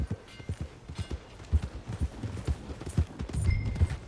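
Hooves clip-clop in a quick, steady rhythm in the video game Red Dead Redemption 2, close and clear, with a faint background hum; no voices are heard.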